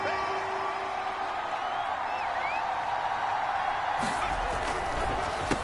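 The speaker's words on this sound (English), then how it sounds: "This crowd doing all they can." A stadium crowd in the Madden NFL 24 video game, during a 1975 Oakland Raiders versus Pittsburgh Steelers matchup, makes a dense, continuous roar near the goal line, with a voice talking over it.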